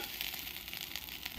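Fish belly frying in a pan for a Bihu meal, a steady, soft hiss and crackle of sizzling oil that holds throughout.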